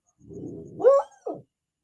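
A dog barking, one drawn-out bark followed quickly by a shorter second one, close and fairly loud with nothing else around.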